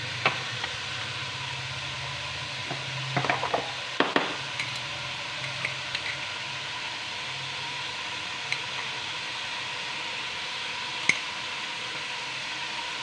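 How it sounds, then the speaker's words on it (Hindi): Ginger and garlic are frying with chicken in a pan, giving a steady close hiss with a few scattered utensil clicks and taps and no talk. "अब मैं डाल दूंगी इसमें अदरक लहसुन"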